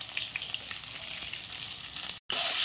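Eggs frying in a pan with turmeric and salt give a steady, close hiss and crackle throughout, broken by a brief gap near the end, with no talking.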